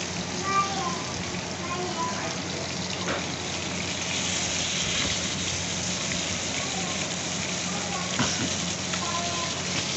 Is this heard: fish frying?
yes